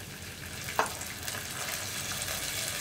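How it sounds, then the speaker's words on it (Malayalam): Cashew nuts fry in a pan on a low flame with a soft, even sizzle and a single sharp click near the start. "ഞാൻ ലോ ഫ്ലെയിമിൽ വെച്ചിട്ടാണ് കാഷ്യൂനട്ട് ചേർത്തിട്ട് ഇനി ഫ്രൈ ചെയ്യുന്നത്"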